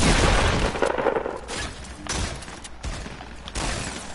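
Rapid gunfire bursts in the Fortnite video game, several loud volleys separated by short pauses, with game effects layered underneath.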